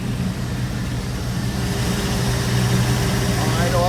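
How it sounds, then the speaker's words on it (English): An American car engine idling through a new aftermarket exhaust, a steady low rumble that holds evenly, with people talking over it. "That's my idle."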